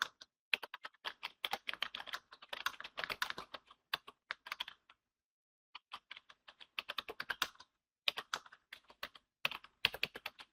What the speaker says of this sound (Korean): 글자를 입력을 해줍니다